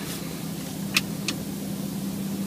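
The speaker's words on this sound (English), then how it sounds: "Engine start." A 2014 Range Rover Sport engine idling steadily right after starting, a smooth low hum with a couple of brief clicks over it, no talking.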